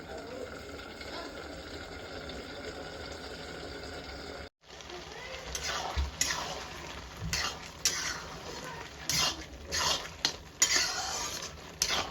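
Carrots for gajar halwa tipped into a pressure cooker, a low sizzle that cuts out briefly, then scraping, clattering utensil knocks and rustling as the food is turned over, close by and without speech.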